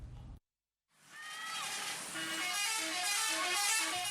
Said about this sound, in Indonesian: berburu suara klakson telolet